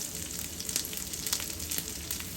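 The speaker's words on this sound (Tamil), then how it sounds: "இந்த சட்டிலேயே வெங்காயமும் பச்சை மிளகாயும் தாளிக்க போகிறேன்" Onions and green chilies frying in a pan, a steady close sizzle and crackle with occasional sharper pops, no voices.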